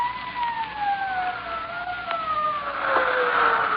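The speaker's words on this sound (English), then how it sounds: "Sirens. Can't you hear them?" A police siren wails in an old-time radio drama, sweeping slowly downward in pitch, steady and fairly loud, with no voices over it.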